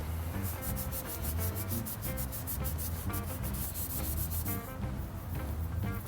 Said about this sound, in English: So I'd go up and down the body of the muffler just to make sure that all of the scratches I've just added blend into the rest of the finish